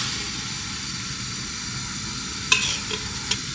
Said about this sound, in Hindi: घी के अंदर ये चिकन शामिल करेंगे।